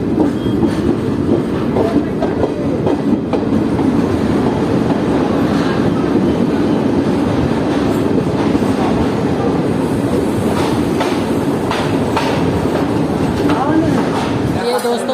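Siemanchal Express passenger train at Jogbani station, a loud steady rumble of wheels on rails with rhythmic clatter running throughout, close by, with someone talking over it.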